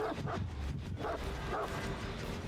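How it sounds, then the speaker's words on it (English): A dog in the video game Dead by Daylight, the Houndmaster's hound, giving several short, soft barks and yips at moderate distance over steady game ambience. "That dog ran right past him there"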